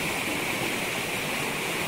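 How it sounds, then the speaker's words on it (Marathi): Water flows steadily through a channel in paddy fields being readied for rice harvest near Rajapur, a continuous close rushing hiss with no voices. "बघा असं पाणी असतं इकडे."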